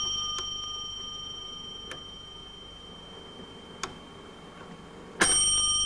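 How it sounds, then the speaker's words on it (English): The intermission bell of a musical clown automaton rings in faint isolated dings spaced about two seconds apart, ending in a sharper, louder strike over steady mechanical hiss. "The intermission bell interrupts his slumber not once but 3 times"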